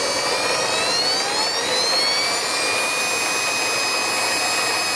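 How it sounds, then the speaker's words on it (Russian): A steady, high-pitched mechanical whine with tonal overtones runs continuously from an ELMOS 209 small band saw, fairly loud and close. "Но пила, в общем, очень тихая на самом деле."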